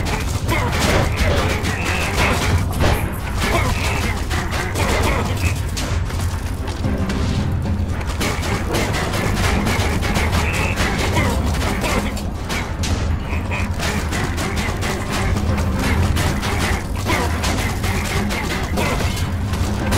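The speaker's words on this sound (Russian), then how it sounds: "взрываемся, не подходим ко мне" Explosions in Minecraft Dungeons thump and crash in a dense, continuous barrage of booms and clattering game effects, loud and unbroken throughout.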